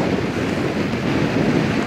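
Strong wind blowing across the northern tip of the Holnis peninsula near Glücksburg, with a steady, loud rushing roar and waves washing on the coast, continuous and close with no speech.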